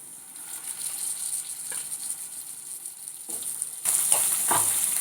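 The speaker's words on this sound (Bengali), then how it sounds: "এবারে এই তেলের মধ্যে আমি ম্যারিনেট করে রাখা চিকেনটাকে দিয়ে দিচ্ছি।" Marinated chicken hits hot oil in a wok with a steady close sizzle, the frying hiss swelling louder and brighter near the end as pieces settle and spatter.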